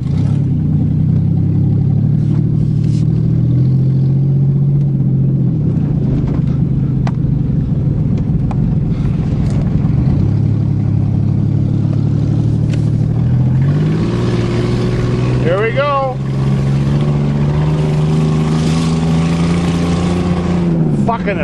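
A Ford Taurus engine drones and rumbles steadily from inside the car on a test drive, loud and continuous, with gear-like shifts in pitch and a voice speaking over it in places.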